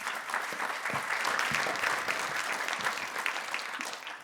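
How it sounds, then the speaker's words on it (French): Sustained applause from a conference audience after a round-table discussion on French defence export policy, steady and fairly distant, with dense clapping throughout and no voices on top. "Vous pouvez les applaudir."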